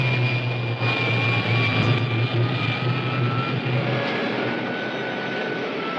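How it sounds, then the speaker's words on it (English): A rocket ship's pilot jet firing in a 1953 cliffhanger serial, heard as a loud, steady engine roar with a low hum that holds unbroken throughout, with no voices over it. "Fire pilot jet."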